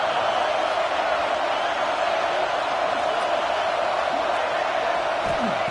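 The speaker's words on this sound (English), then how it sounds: "Listen to the crowd energy here in the early going." Dense, sustained roar of a stadium crowd at an LSU football game, loud and unbroken throughout, with no distinct peaks, as a commentator speaks over it.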